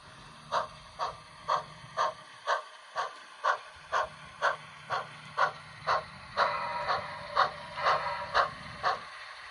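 A Bachmann HO scale DCC sound-equipped 2-6-0 mogul model locomotive running, giving a steady series of rhythmic chuffs about twice a second, with a low hum under them, close and clear with no talk.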